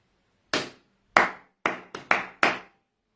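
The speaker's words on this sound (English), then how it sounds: "So I'll just start clapping." Six sharp hand claps ring out alone in a short rhythmic call pattern, a steady group of three followed by a quicker run, demonstrating a classroom call-and-response routine for students to echo.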